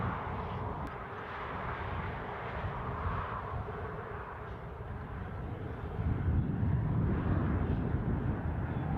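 A small propeller aircraft flies near Newcastle International Airport, its steady engine drone continuous and moderately distant, swelling louder toward the end with outdoor ambience.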